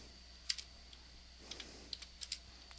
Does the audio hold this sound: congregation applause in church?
no